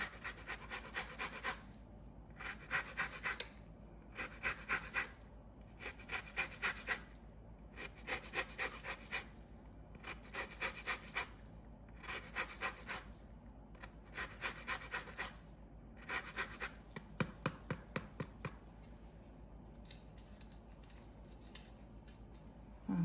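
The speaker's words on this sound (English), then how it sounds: "I'm going to grate some lemon zest in there." Lemon zest grated for an Italian lemon chocolate ricotta pie, heard as repeated rhythmic rasping strokes in short bursts with brief pauses, close and fairly quiet, no talking.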